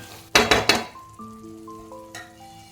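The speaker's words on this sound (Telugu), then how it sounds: "ఇది కొంచెం మిక్స్ చేస్తూ ఉండండి" Curd and chicken masala are stirred in a pot for dum biryani: three quick loud scrapes of a spoon against the pot, then soft low sizzling with faint clinks, close and with no voices.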